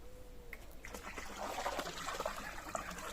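Diluted pool treatment poured into a backyard pool as a second batch, a steady close trickle and splash of liquid that grows a little fuller midway and runs on throughout.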